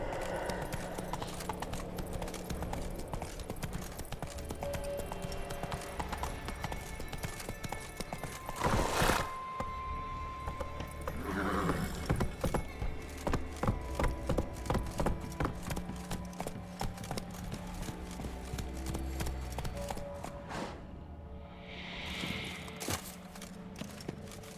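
Roach the horse in The Witcher 3 running with quick, rhythmic hoofbeats and a loud neigh midway, over game music and ambience, with little talk.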